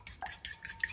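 Two eggs with salt and black pepper are beaten briskly in a bowl, giving quick, faint rhythmic clinks of a whisk or fork against the dish, about four strokes in under a second.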